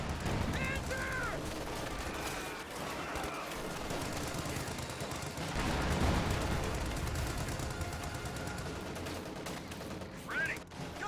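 A World War II video game battle rages with rapid bursts of gunfire and machine-gun rattle crackling continuously, mixed with shouted in-game voices.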